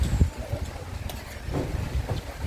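Gusty wind buffets the microphone in low, uneven rumbles, with soft background noise and no speech.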